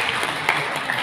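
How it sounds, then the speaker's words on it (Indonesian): Audience applause at an Indonesian formal event, a short burst of even scattered clapping at moderate level with no speech over it. "terima kasih tepuk tangannya untuk Bapak Ibu"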